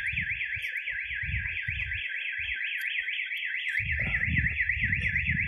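A car alarm wails continuously, its pitch sweeping up and down in rapid regular cycles, with low rumbling background noise underneath.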